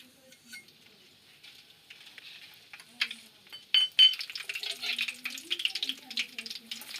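Dried red chillies fry in oil in a kadai, a soft crackling sizzle with scattered clinks of a stirring spoon against the pan, growing busier and louder toward the end, with no talk.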